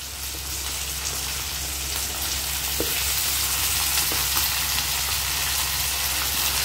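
Okra sizzles steadily in a pan of hot oil with green chillies and curry leaves, a continuous close frying hiss with a couple of faint stirring taps.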